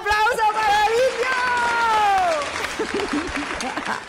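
Studio audience applause for a caller on a live Spanish-language radio show, rising under a sustained cheering voice and fading into scattered claps and chatter.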